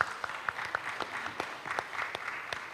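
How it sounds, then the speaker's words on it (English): Round of applause for candidates at a sorority-hosted election forum, scattered crisp claps from a modest audience, irregular and fairly close, with no talk. "Please give them a round of applause."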